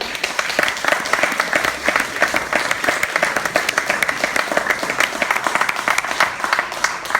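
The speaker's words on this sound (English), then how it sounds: "everyone here deserves a first round of applause" An audience gives a sustained round of applause at a live literary publishing event, many hands clapping densely and steadily from start to finish at close range, with no voices rising above it.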